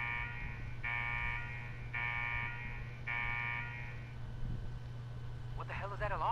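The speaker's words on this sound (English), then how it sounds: "What the hell is that alarm?" An alarm in the video game Fallout 4 sounds in three evenly spaced, steady electronic buzzing blasts over a low hum, followed by a voice speaking briefly at the end.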